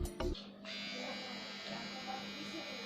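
A Mi 1C beard trimmer switches on after a brief click and runs with a steady, close electric buzz that holds for several seconds.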